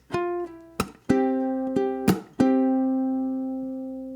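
A ukulele strums several chords in a steady pattern, with sharp percussive slaps cutting in between, the last chord ringing out and fading.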